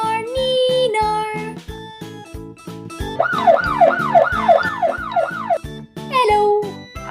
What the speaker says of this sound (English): Hello, I am fire truck. I go neenar neenar neenar.